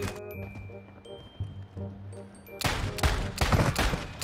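Revolver gunfire in the video game Call of Duty Warzone: after a quieter stretch, a loud run of rapid, close shots fires in dense bursts.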